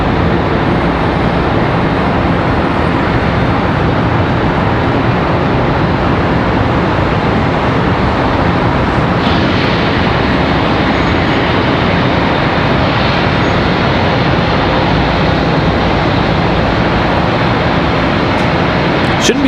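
An American Airlines A321 jet departs Charlotte Douglas airport, heard as a steady, loud broadband engine roar that holds constant throughout with no talk over it.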